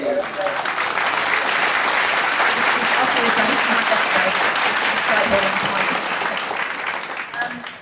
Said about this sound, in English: Big round of applause for Jack Mann, everybody